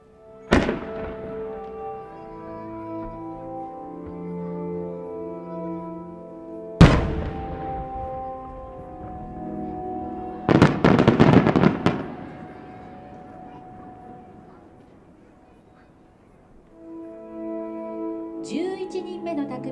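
Fireworks at the Motegi autumn fireworks festival burst in loud, booming cracks spaced seconds apart, one followed by a crackling cluster, with musical tones sounding faintly between them.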